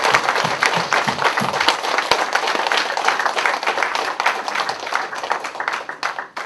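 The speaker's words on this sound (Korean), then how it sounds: "큰 박수를 한 번만 더" An audience at a church lecture gives loud, sustained applause, dense and continuous throughout, tapering only slightly at the end.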